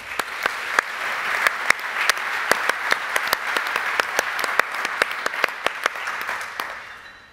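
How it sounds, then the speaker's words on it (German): Hearty applause from a crowd at the opening of the SIGA 23 fair in honor of the St. Galler Kantonalbank, a dense steady wash of clapping with sharp individual claps poking through, fading slightly at the end. "Einen herzlichen Applaus für die St. Galler Kantonalbank als unsere Presentingpartnerin."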